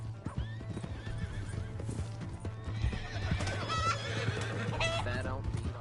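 A horse in Red Dead Redemption 2 clopping along with steady hoofbeats, then whinnying loudly over the hooves, while people shout in the background.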